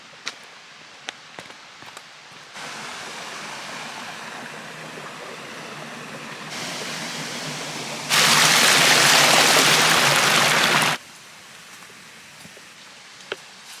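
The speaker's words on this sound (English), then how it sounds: "Going to see waterfalls when they're at low flow." Waterfall at low flow in Paraguay, a steady broadband rush that swells and grows louder partway through before dropping back, with a few faint clicks and no talking.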